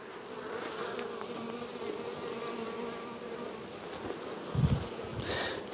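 Honeybees and drones buzz steadily in an opened hive during queen caging, a close, continuous drone with a brief louder thump near the end.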